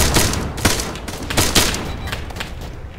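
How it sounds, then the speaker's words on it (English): Volley of gunshots during a military field training exercise, a run of sharp cracks at irregular intervals over a constant background rumble, fairly loud and close. "Shots from the left."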